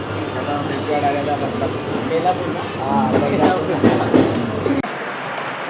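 Steady low rumble of a moving train carriage, with people talking nearby over the constant clatter.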